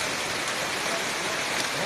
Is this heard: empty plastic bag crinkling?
no